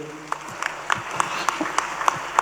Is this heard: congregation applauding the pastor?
yes